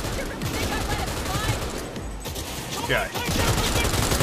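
Dense, continuous gunfire from a weapon in the Cyberpunk 2077 video game, rapid shots layered into a loud sustained barrage with a short break midway, and someone speaks a single word.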